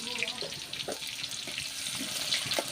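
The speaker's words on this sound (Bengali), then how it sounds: "এখন আমি রসুন আর পেঁয়াজগুলোকে একটু ভেজে নিচ্ছি।" Garlic and ginger frying in a pan for beef noodles, a steady close sizzle with faint clinks and stirring scrapes, no voice over it.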